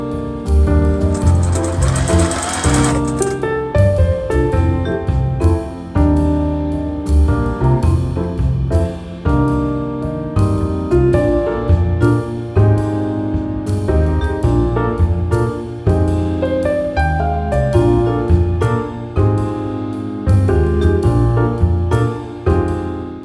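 A sewing machine stitches steadily during free-motion quilting of a circular design. Its motor hum and needle rhythm run loud and close for the whole stretch, with brief pauses and changes in speed and no voices.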